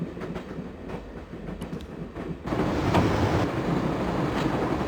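Train rumbling along the tracks in the Broken Sword video game, a steady rolling clatter that grows louder and denser partway through, continuous with no talking.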